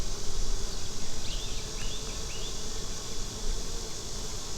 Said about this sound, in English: You got some brand new little white colored bees.